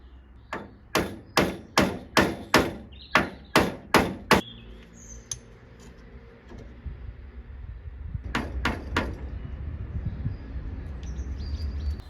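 Hammer nailing thin wooden cladding onto battens for a DIY cold tub: about nine sharp, evenly spaced blows in quick succession, then three more strikes a few seconds later, with a quiet gap between the two bursts.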